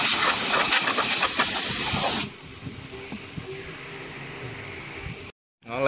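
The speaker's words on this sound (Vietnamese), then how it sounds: "giờ thổi bụi ra" Compressed air blasts dust off a 38 cm plant pot before painting, a loud close hiss for about two seconds, then fainter bursts and a quieter background.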